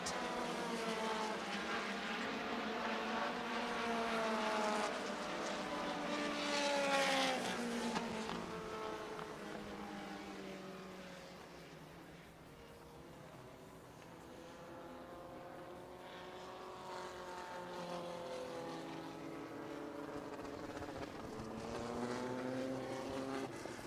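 All-Star pavement midget race cars roar past on the oval at Indianapolis Raceway Park, a continuous, loud engine drone that rises and falls in pitch as cars pass, with no talk.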